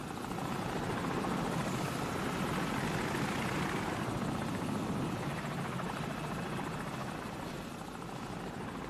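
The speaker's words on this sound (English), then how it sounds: "Enemy helicopter! Get down!" A helicopter in the Call of Duty: Modern Warfare game churns loudly and steadily overhead, its dense rotor roar filling the whole stretch with no pause and no voices.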